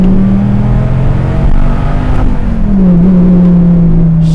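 A Dodge Viper GTS engine roars loudly from inside the car, a deep sustained growl that climbs in pitch as it accelerates, then drops briefly before building again.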